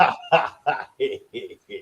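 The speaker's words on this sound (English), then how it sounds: "Even my dogs are barking about Notre Dame, as you can hear." Dogs bark in a quick series of about six loud, close barks that gradually grow softer and shorter.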